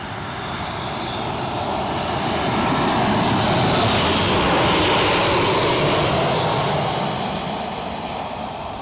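A Ryanair jet airliner roars on the runway at Newcastle, a loud, steady broadband engine rush that swells to a peak midway and then eases slightly, with no voices over it.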